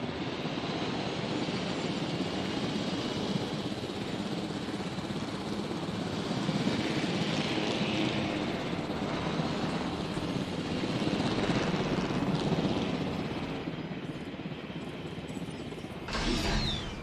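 Helicopter rotor and engine drone in the dinosaur park game Jurassic World Evolution, a steady dense whir sustained throughout at moderate loudness, with a brief swell near the end.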